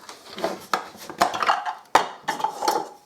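Small kitchen chopper being reassembled before chopping tomatoes, with sharp plastic clicks and clatters as its lid and blade are fitted, several close knocks in an uneven rhythm with no talk.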